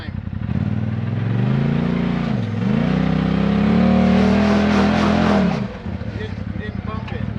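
A Polaris RZR Turbo S side-by-side climbs a sandy trail, its engine droning loud and close and surging in pitch before the throttle drops off near the end, with people talking over it.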